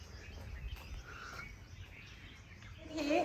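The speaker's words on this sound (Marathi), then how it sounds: "या पक्ष्यांचे आवाज इतके सुदिंग आहेत ना" Birds chirp faintly outdoors at a resort, scattered tweets and calls drifting over a quiet ambient background, with a brighter burst of song near the end and no talking.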